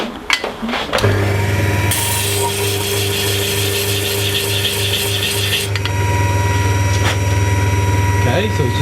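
A wooden model boat part is sanded on a power sander, making a steady loud buzzing whine with a rougher rasping texture in the middle, while people talk briefly at the start.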